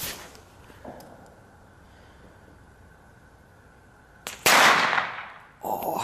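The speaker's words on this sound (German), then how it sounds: "aber ich sollte bei Böllern nicht stören, da ist halt der Knall" Outdoors, a firecracker goes off with a sharp loud bang and hissing burst after a stretch of quiet hum, followed by another burst of crackling noise near the end.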